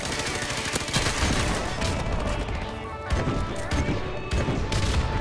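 Rapid gunfire and impacts in Modern Warfare Remastered multiplayer, dense bursts of shots and crashes overlapping continuously at close range.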